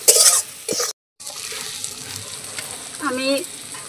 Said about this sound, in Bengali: আমি আলুটা কষিয়ে নিয়েছি, একদম তেল ছেড়ে দিয়েছে দেখুন